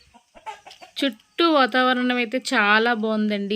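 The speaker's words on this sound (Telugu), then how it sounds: "కోళ్ళు శబ్దము చాలా బాగుందండి." Chickens cluck in short, scattered calls outside a hillside house in Maredumilli, mostly at the start and then largely masked by a person talking close by.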